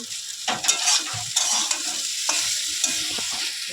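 Potatoes and flat beans fry in a pan while being stirred: a bright, steady sizzle with a few close scraping strokes of the utensil, heard alone.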